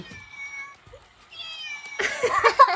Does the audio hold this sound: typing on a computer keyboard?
no